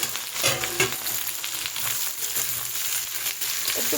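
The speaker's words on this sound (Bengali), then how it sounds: "এগুলো সব সবজি একসাথে আমি এই তেলের মধ্যে ছেড়ে দিচ্ছি" Sliced onion, capsicum and green chilli hitting hot oil together in a pan, giving a dense, bright sizzle with a few stirring scrapes, close and continuous.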